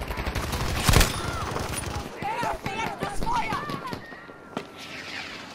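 MG42 machine gun fire in a Battlefield V battle, with bursts of gunfire and scattered shots mixed under excited talk and game effects.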